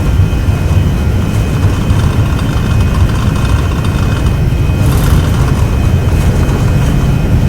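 Airbus A319 engines spooling at takeoff thrust in the X-Plane 12 flight simulator, a steady loud low roar and whine that holds constant throughout with no talking.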